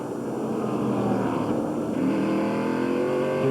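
NASCAR stock car at a 2003 Subway 500 race accelerating hard after braking, a loud, continuous engine roar rising steadily in pitch, near and dominant with no talk.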